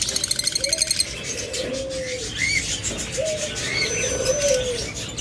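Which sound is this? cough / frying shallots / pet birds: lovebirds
pet birds: lovebirds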